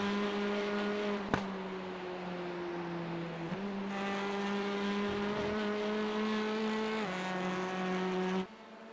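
Touring cars racing at the Thruxton circuit in a simulated race, their engines droning steadily in harmonic layers with gear shifts causing pitch drops, a sharp click near the start and an abrupt cutoff near the end.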